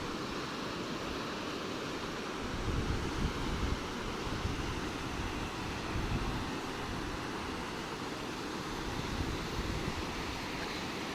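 Rushing water released through three opened gates of the Tungabhadra dam reservoir, a steady, dense roar of flowing water that holds constant throughout with no voices over it.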